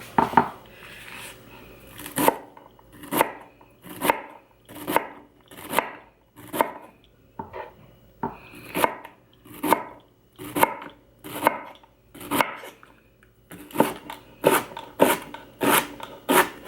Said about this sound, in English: Got our celery we're gonna chop up as well.